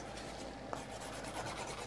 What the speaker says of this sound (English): And then you're going to file your nail.